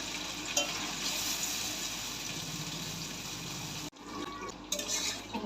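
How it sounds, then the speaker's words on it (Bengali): Spice masala being stirred and fried in hot oil in a home kitchen, a soft continuous sizzle with scraping stirs, briefly cut off near the end before the frying hiss resumes. "এবার নাড়াচাড়া করবো, করে মশলাটা কষিয়ে নেবো।"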